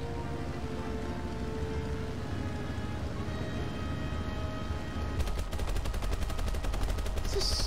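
Machine gun fire in War Thunder: a low background rumble, then a rapid, evenly spaced burst of shots that starts about two-thirds of the way through and runs to the end.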